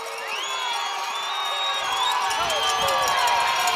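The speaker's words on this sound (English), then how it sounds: "You love hearing the crowd over here behind them" A crowd at a high school playoff football game cheers and shouts continuously, whoops and high voices layered in a steady roar that builds slightly, with talk over it.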